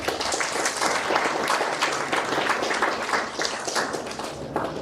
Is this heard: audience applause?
yes